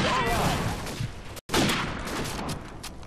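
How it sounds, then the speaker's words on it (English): Gunfire in Call of Duty Modern Warfare, a dense burst of rapid shots and blasts that breaks off briefly and then resumes, loud and close, mixed with game sounds and voices. "There's quite a lot of shots there"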